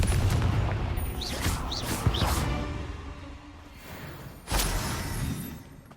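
Fiery blasting spell erupts in the video game Hogwarts Legacy, a string of sharp booming bursts with crackling debris, followed by a second heavy blast near the end over a dense game soundscape.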